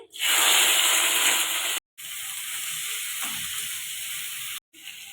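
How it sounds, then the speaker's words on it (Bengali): Carrot and capsicum hit hot refined oil in a wok, a loud steady sizzle with a bright hiss that settles slightly and breaks off twice briefly, with no talking. "কড়া বসিয়ে দিয়েছি, রিফাইন তেল দিয়ে দিয়েছি, গাজর ক্যাপসিকাম দিয়ে দিচ্ছি।"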